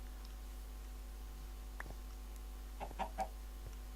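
Minecraft chickens give a few soft clucks and squawks, scattered and faint over a steady low hum, the last three close together near the end.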